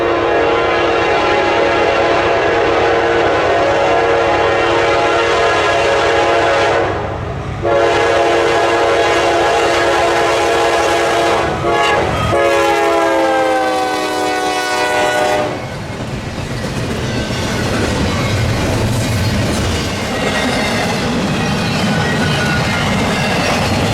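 A freight train rolls past with a partial Whiteface-9 locomotive, number 9762, trailing second, on Otis Hill. Loud, sustained horn blasts sound over a heavy, steady rumble of wheels and cars that swells and eases toward the end.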